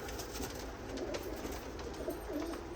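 Soft, low pigeon coos repeat over a steady background hiss, close by and fairly faint, with no voices.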